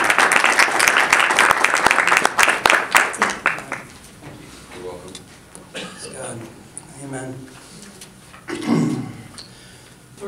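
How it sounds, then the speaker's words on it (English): Audience applauding a speaker at a church morning gathering, with loud dense clapping that fades out after about four seconds, followed by a voice speaking. "everybody give him a warm round of applause this morning"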